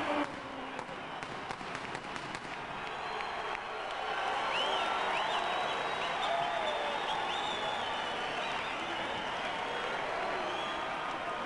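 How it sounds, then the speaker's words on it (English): A boxing arena crowd erupts as Fernando Vargas enters the ring for his fight with Oscar De La Hoya, a dense sustained roar of cheering, whistles and applause that swells louder midway and stays loud. "An explosive eruption in the arena as Vargas emerges into the ring"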